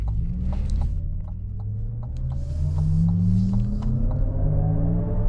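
A 2026 Cadillac Vistiq electric SUV accelerates hard, its motor whine climbing steadily in pitch over a low road rumble heard from inside the cabin.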